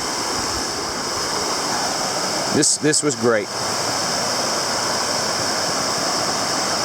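Steady rushing of a stream beside a campsite fills the clip, with a short burst of talking near the middle over the continuous wash.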